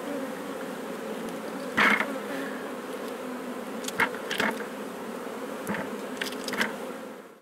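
Steady droning buzz of many honeybees close by at a top-bar hive, with a few sharper rustles and brushing noises breaking through now and then as bees are brushed off.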